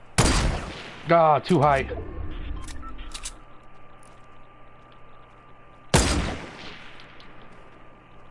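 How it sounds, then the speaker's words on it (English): Gunfire in the Fortnite Battle Royale Halloween update: a few sharp shots at the start, a quick burst around one second, and another loud blast near six seconds, with electronic game tones and brief talk between. "She also has no idea where I am and is just shooting randomly."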